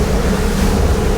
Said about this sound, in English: you really do get some benefit from driving this boat through the waves